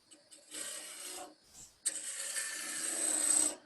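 A wooden mallet blank spins on a lathe running at about 1500 RPM while a sharp gouge cuts shavings from it. Two sustained scraping, rasping passes are heard, split by a short pause, steady and close with no talking.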